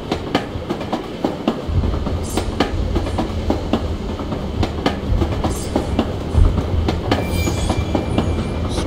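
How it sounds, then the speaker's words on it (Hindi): A tram in the video game Assassin's Creed Chronicles Russia rolls past with a steady rumble and rapid clickety-clack wheel beats, with occasional squeals and metallic clanks, fairly loud and close and with no talk over it. "अभी ये ट्राम निकले निकलेगा लग रहा है मुझे"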